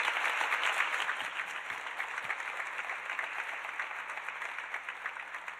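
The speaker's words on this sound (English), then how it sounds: "Please join us in a round of applause for these ladies." A crowd at an American Cancer Society ResearcHERS event gives a sustained, even round of applause, strongest at the start and easing slightly as it continues, with no voices.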